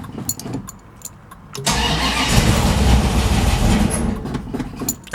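A cold Barracuda with no choke clicks and cranks briefly, then catches and roars into a loud, rough idle close by, with faint clicks before the start.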